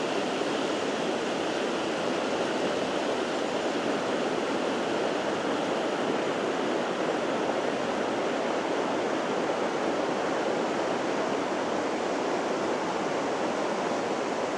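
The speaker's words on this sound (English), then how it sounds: "We're almost to the river." Steady broadband rush of river water flowing close by, continuous and even throughout with no voices.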